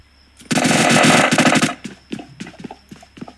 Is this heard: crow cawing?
no